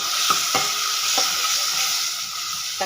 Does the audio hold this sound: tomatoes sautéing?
yes